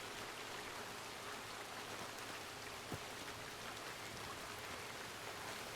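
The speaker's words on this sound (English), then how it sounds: "It's raining." Steady, faint rain in Red Dead Redemption 2 Online hisses evenly throughout, a continuous wash of falling drops with no voices.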